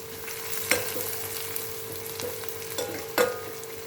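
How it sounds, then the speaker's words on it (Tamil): Onions and garlic sauté in a pan with a continuous close sizzle, broken by several sharp clacks of a spoon stirring against the pan. "வெங்காயம்லாம் நல்லா வணங்கிடுச்சு"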